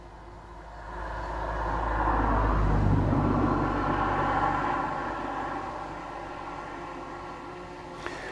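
A car approaches and passes along a road, its engine and tyre noise swelling to a loud peak midway and then fading away, with a faint click near the end.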